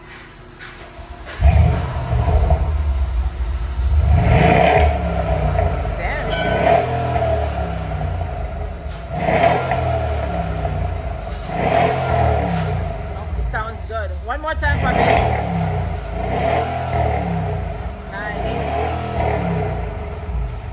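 A Mercedes ML63 AMG engine with an aftermarket Black Widow Race Venom exhaust revs repeatedly in loud, throaty bursts with a deep exhaust rumble, while a person speaks briefly between revs.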